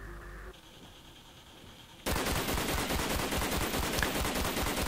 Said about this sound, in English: This is Black Ops weapons when they're under the influence of a turbo controller.